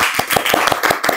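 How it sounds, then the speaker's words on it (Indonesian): Applause for a guest on a talk show: a short burst of quick, sharp claps, irregular and close, lasting about a second with no voices. "Tepuk tangan dong buat Kang Tesar"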